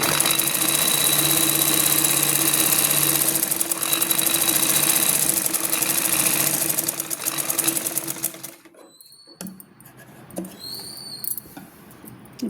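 A sewing machine runs steadily, stitching a blouse belt part for about eight seconds with a fine mechanical whir, then stops abruptly, leaving quiet shuffles and faint clicks.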